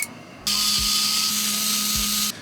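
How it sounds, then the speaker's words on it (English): An electric screwdriver backs screws out of an airsoft gearbox, a steady high-pitched motor whine running for about two seconds after a brief quiet start. "I'm going to use an electric screwdriver to get these screws out of the gearbox."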